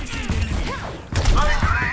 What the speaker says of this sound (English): Never be afraid to pull out your blaster.